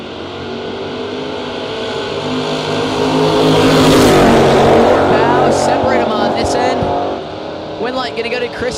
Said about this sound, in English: Strange dialed a 663 in the Camaro. Ritchie 679 in the Ranger.